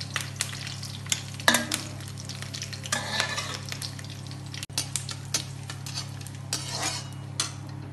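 Mustard seeds dropped into hot oil alongside fried curry leaves for masala idli, giving a steady sizzle with scattered crackles and clinks of a spoon stirring nearby, no one talking.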